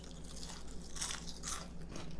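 Homemade French fried onions crunching as they are bitten and chewed, with a few close, crisp bursts of crunch over a quiet background.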